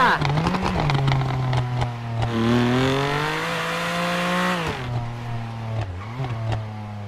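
A BMW engine in GTA 5 revs hard and steadily, its pitch climbing and dipping through several gear-like sweeps, loud and continuous, with voices talking over it at times.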